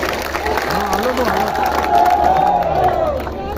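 A large outdoor crowd at a political rally in Alot, Madhya Pradesh, cheers and claps continuously, the roar swelling midway, with a voice speaking over it.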